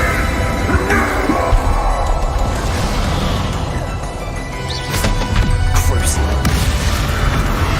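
Bombarda, an explosion spell in Hogwarts Legacy, sets off heavy booms and crashing impacts during a fierce battle, with several loud blasts clustered near the end over continuous combat noise and voices.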